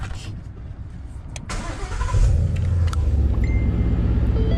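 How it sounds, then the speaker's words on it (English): A Ford Mustang engine cranks and catches, then settles into a steady, close idle rumble after a brief whirring start. "So we start up the vehicle."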